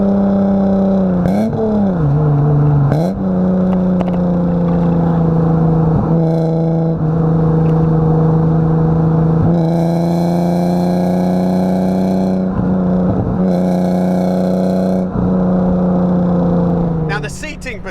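Alfa Romeo Busso V6 of 160 horsepower droning steadily while driving, a loud sustained engine hum with a couple of brief rev dips and shifts, heard from inside the car with occasional clicks.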